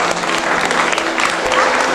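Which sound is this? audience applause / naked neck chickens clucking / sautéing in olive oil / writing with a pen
audience applause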